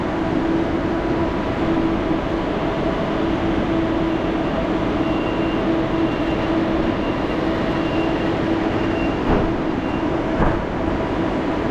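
Steady loud rumble of a KLIA Transit train at KL Sentral station, with a continuous low hum, a faint tonal whine and a couple of brief knocks, no voices over it.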